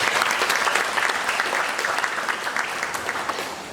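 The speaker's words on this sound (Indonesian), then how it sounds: "Ya, kita kasih aplaus." Audience applause at a Kathina almsgiving and anniversary gathering, a steady dense clatter of many hands clapping that continues without a break and slowly fades toward the end.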